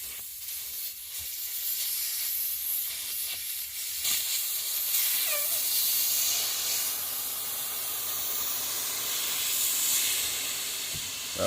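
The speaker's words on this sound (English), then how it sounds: "Valve stem tool, and deflated wheel." Air hisses steadily from a motorcycle tire as the valve core is pulled with a valve stem tool and the wheel deflates, a continuous broadband rush over a short sharp squeak, no talking.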